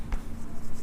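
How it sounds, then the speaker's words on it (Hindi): Brief scratch of chalk or pen writing the word biodiversity on a board during a science lesson, a single short stroke, fairly faint against a quiet room hum. "यहाँ लिखते हैं"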